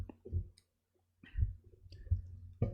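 Several soft, close mouse clicks with short gaps between them as the launch button is pressed to start a new cloud server.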